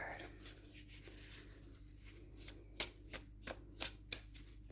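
A deck of oracle cards being shuffled: soft riffling that builds into a string of crisp, evenly spaced card flicks, quiet and close against a low background hum, with no talk.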